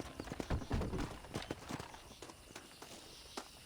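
A horse's hooves clip-clop across the ground in the Red Dead Redemption video game, a run of distinct, moderately close hoofbeats in an irregular walking rhythm that grows lighter and sparser toward the end.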